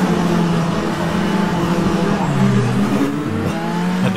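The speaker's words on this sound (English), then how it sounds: "this car sounds fantastic" A Renault R.S. 01 race car in the rFactor 2 racing game at Montreal, a loud, constant high engine drone that shifts pitch through gear changes during a multi-class race.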